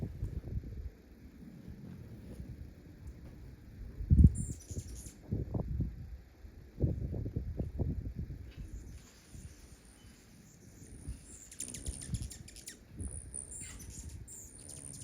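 Hummingbirds give high, sharp territorial warning chirps in short bursts over faint low rumbling and rustling, quiet and intermittent, with no one talking.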